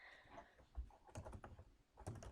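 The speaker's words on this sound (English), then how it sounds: "I'm just going to keep typing in names, hitting enter" Someone types names on a computer keyboard in Outlook, pressing enter after each. The keystrokes come close and moderately loud, in quick irregular bursts with brief pauses between them.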